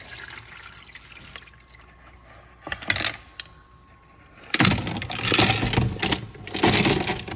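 Tumbled rocks are rinsed in a small handheld strainer under running water, with bursts of splashing and rattling that start and stop, louder in the second half.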